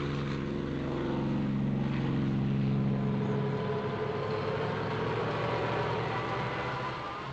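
A propeller airliner at an airport around 1951, its engine drone loud and steady with a low throbbing hum that thins out as the aircraft settles, leaving a broad rushing roar with no voices.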